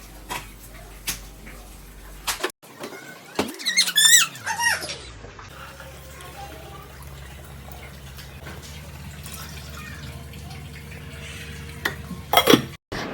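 Kitchen vessels are handled in a home kitchen while a beef curry is cooked: scattered clanks, scrapes and squeaks of pots and utensils, with a sharp burst of clatter near the start and again near the end over a low steady hum.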